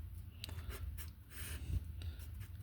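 A pencil scratches across paper in short, soft strokes and taps while someone works a limit problem by hand, with low room rumble beneath.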